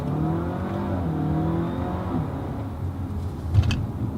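A 2017 Audi A4 engine revs up and accelerates, its note rising through a DSG gearshift, then gives a short sharp burble near the end.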